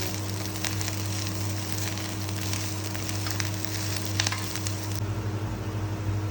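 Onions and sliced jackfruit seeds frying in a pan for a Goan dish, a steady crackling sizzle with scattered sharp pops over a low constant hum, continuous and fairly close.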